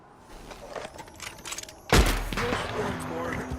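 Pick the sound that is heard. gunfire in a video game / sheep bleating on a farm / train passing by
gunfire in a video game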